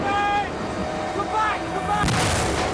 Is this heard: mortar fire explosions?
yes